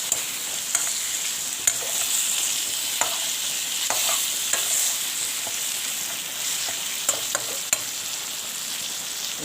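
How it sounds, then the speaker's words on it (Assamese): Chicken pieces sizzling in a pan while being stirred, the frying hiss continuous with sharp scrapes and clacks of the utensil recurring every second or so, close and clear with no voices. "এতিয়া মাংসখিনি মই এনেকৈ ভাজি ল'লোঁ।"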